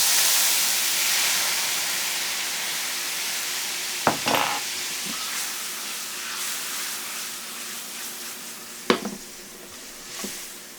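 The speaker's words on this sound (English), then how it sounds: "let's go ahead and add some wine to deglaze the pan" Wine poured into a hot pan to deglaze it during chicken piccata cooking, giving a loud hissing sizzle that slowly fades, with a few clanks of a utensil against the pan, close and without speech.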